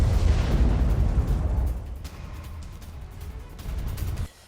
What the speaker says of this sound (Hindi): यूक्रेनी धमाके कर रूसी सेना को रोका गया।